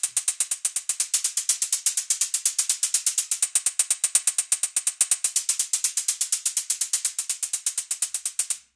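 Electronic hi-hat pattern in Ableton with white noise blended into each hit, a fast, steady run of bright, crisp ticks repeating evenly throughout, alone and fairly loud with no talking.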